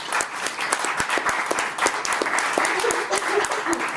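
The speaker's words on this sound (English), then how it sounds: "let's give our panel a round of applause" A seminar audience applauds a panel with steady, dense clapping from many hands, sharp individual claps standing out above the crowd noise, with a few voices murmuring underneath.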